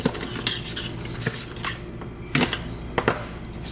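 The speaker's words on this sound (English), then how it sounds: "Stir up my buttermilk." A utensil clinks and scrapes against a bowl while buttermilk is stirred for Cajun pan-fried catfish, a close, irregular run of light metallic taps and knocks in a quiet kitchen.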